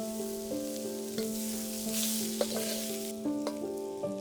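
Oyster mushrooms sear in a pan, a steady sizzle broken by a few sharp scrapes and clicks of stirring, with a steady tonal hum underneath and no voices.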